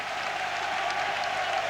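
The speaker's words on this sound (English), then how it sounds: "Getting a great ovation from the Stuttgart crowd" Stadium crowd in Stuttgart applauding a goal scorer at a 1992-93 European Cup match against Leeds United, a steady, dense wash of clapping heard from a distance, with no voices on top.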